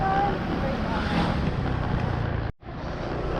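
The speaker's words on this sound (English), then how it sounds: "the water is splashing up over the road" Waves breaking and splashing up over a coastal road in Barangay Libertad on Camotes Island, Cebu, a loud continuous rushing wash of water with wind noise, briefly cut off by a short dropout near the end.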